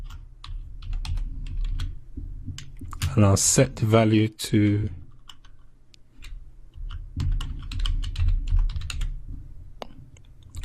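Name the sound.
typing on a computer keyboard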